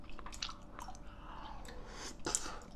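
Chewing red bean porridge made with added rice, soft wet mouth sounds and occasional squishy bites close up, with no talking.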